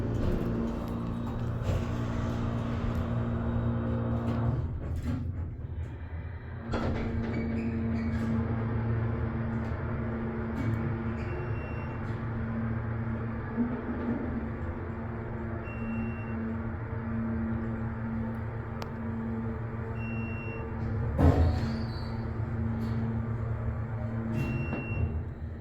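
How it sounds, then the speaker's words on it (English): A hydraulic elevator motor in a parking garage at Bergen Town Center, Paramus, hums steadily and loudly throughout, a broad constant drone with steady tones, with a brief louder bump near the end. "Sounds like we have a good motor."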